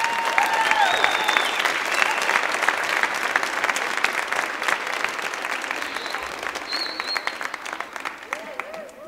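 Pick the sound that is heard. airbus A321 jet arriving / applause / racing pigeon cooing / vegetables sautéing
applause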